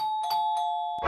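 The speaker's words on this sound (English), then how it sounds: "let's ring the doorbell" A doorbell rings in the Roblox game Brookhaven, a clean electronic ding-dong chime sounding alone and close before cutting off.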